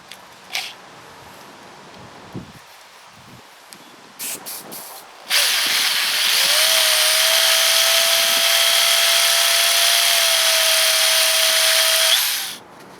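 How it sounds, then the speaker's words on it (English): A drill spins a small wheel cylinder hone in reverse, a steady loud whine with hiss that starts after a few faint clicks and knocks, runs about seven seconds, then stops. "In this case, the drill would be going in reverse like that."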